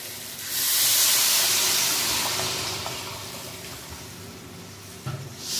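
Water poured into a pan of Bengali bhola fish jhal curry with potatoes and spices, a loud rushing hiss and sizzle that swells quickly and then slowly fades, with a faint clatter near the end.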